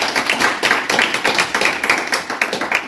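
A small audience at a French author meet-and-greet claps together, a brief, close burst of rapid, fairly even hand claps.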